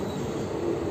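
Kacheguda DEMU express train at Maganur station, heard as a steady, loud low rumble with a continuous rolling wagon and wheel noise lasting throughout, with no voices.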